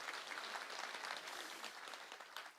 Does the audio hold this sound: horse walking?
no